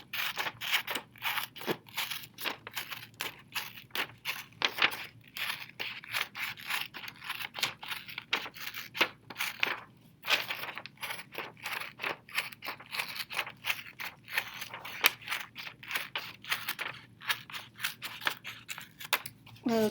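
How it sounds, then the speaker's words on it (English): Scissors snip out paper circles in quick, repeated cuts, close by and crisp, with faint rustling between the strokes. "take your scissors and cut out the circles"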